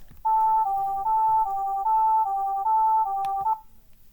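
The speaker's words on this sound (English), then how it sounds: "have completed making the Nauru EAS alarm" A recreated Nauru Emergency Alert System alarm tone plays loud and clear as a pure electronic beep that alternates between two close pitches in an even, repeating pattern, then stops with a brief tail.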